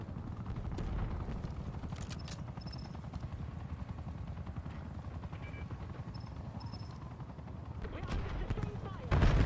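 Helicopter in a Call of Duty match, a continuous low rotor chop under battlefield noise with scattered gunfire cracks and short electronic beeps, loud throughout the clip.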